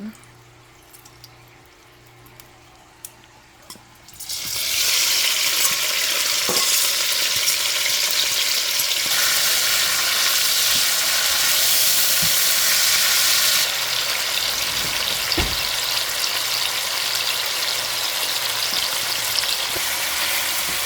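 Oil hitting a hot pan and frying for saltfish and okra, starting after a few quiet seconds and then a steady, loud, close hiss that fills the pan and carries on without talk.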